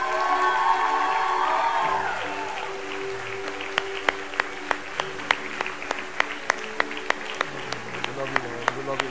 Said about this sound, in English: Why don't we give Jesus a big round of applause?